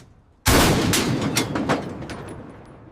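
Tank gunfire and artillery in a battle, heard as a sudden loud blast followed by a rapid string of further shots and booms that fade into a rumbling tail.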